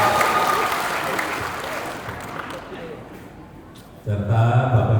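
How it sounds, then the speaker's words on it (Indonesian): Audience applause at a PSI party political gathering in Kupang for the DPD chairman, loud dense clapping that fades over four seconds before music and voices cut in abruptly near the end. "Tepuk tangan dong untuk Pak Ketua"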